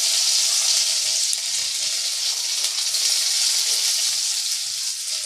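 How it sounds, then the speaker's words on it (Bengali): Chopped onion fries in oil with half a spoon of black cumin, producing a steady, close hiss of sizzling with faint stirring and no voices. "কালো জিরেটা একটু ভাজা ভাজা হয়ে গেলে দিয়ে দেবো পেঁয়াজ কুচি"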